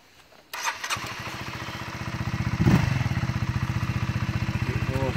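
A Honda CBR 125R motorcycle engine starts up after a brief starter whir and catches into a steady, close, loud idle with a fast even pulsing beat, no talking over it.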